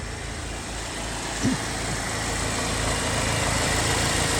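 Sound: car engine idling steadily

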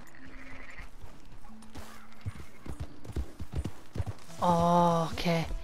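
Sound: sheep bleating in video game Red Dead Redemption 2

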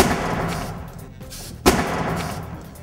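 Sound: car airbag deploying explosively

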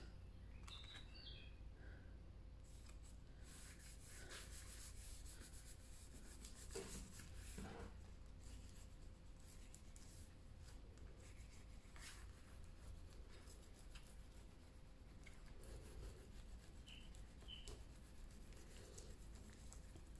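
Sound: rubbing paper flat on a folio to remove air

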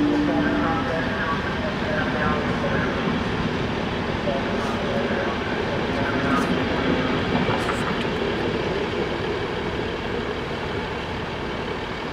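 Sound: train at station ready to depart

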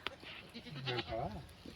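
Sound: sheep bleating

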